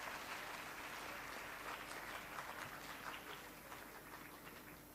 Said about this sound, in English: I can barely hear your applause